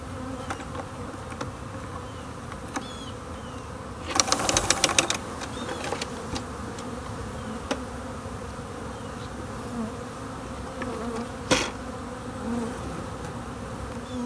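Honeybees swarm and buzz around an open hive box as the colony is dumped in, a dense droning hum with a few closer passes and brief loud bursts as bees fly near.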